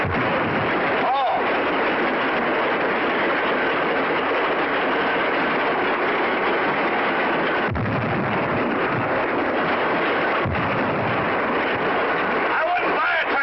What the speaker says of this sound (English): I wouldn't buy a tractor that made so much noise.